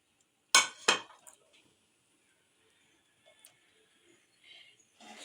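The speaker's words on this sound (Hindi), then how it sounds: "नीम गर्म के अंदर आप ये तमाम सब्ज़ी डाल के और साथ में चिकन भी डाल दें।" Chicken and chopped vegetables dropped into a pan of warm oil, for a Chinese pulao, with two sharp clattering clinks close by, then quiet, faint sizzle-like hiss and a few small scrapes.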